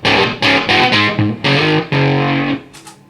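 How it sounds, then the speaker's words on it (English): Electric guitar through an Octavia octave fuzz pedal plays a string of loud, buzzy chords and notes with a thick, saturated tone, each stab ringing briefly before the next. "then I go to an Octavia"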